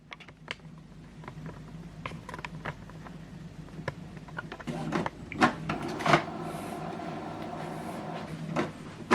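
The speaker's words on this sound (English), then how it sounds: "once you press English, it will start preparing the printer." An Epson XP-3155 inkjet printer initializing, its mechanism whirring and clicking with scattered knocks and a steadier motor hum building toward the end, close and fairly quiet.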